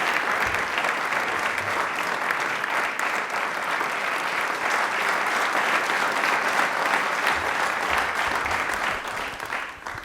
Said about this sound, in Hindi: एक बार तालियों से इनका स्वागत करें